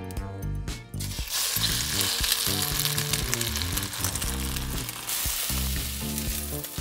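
Batter-coated Chinese cabbage steaks frying in a pan, a loud, dense, continuous sizzle and crackle of hot oil, close up with no voices.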